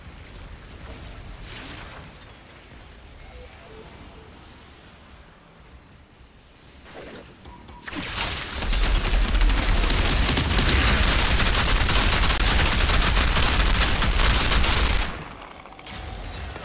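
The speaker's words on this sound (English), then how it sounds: "That is some goddamn racket. The launcher must be close." A rocket launcher in the Outriders shooter game sets up a loud, sustained roaring barrage of rapid firing that swells in midway, holds for several seconds, then cuts off abruptly.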